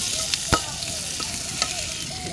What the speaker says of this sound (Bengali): ডিম আলুর জন্য পেঁয়াজ কষাইতেছি